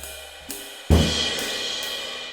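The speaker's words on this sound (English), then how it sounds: "we don't want to do like a big gong crash like this" A big, loud gong-like cymbal crash on a jazz drum set, preceded by a softer hit, then one heavy strike that blooms into a long, shimmering wash that keeps ringing.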